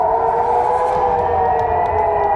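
An air-raid warning siren in the Middle East sounds for incoming bombs, a loud steady wail that holds one sustained pitch without pause from start to finish.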